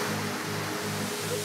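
Torrents of water pour down from a waterfall in Senegal, a steady, dense broadband rush with a low rumbling undertone, continuous and close throughout.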